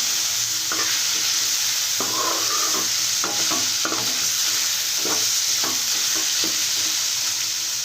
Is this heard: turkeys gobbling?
no